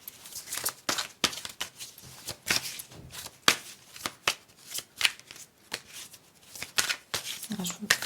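Tarot cards shuffled by hand in a steady run of crisp riffling bursts and soft slaps, close and clear, repeating roughly every half second for several seconds.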